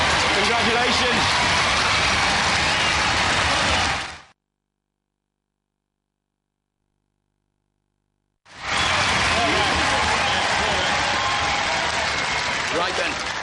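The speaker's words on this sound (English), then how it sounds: "Ladies and gentlemen, give them a round of applause." Loud arena crowd applause and cheering for the Robot Wars lightweight champions, a dense roar that cuts out to silence midway and then resumes just as strongly.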